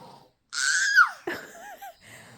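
A man snores loudly, a harsh wheezing inhale that rises and then sweeps down, followed by shorter gurgling, fluttering breaths, close by and with no talk over it.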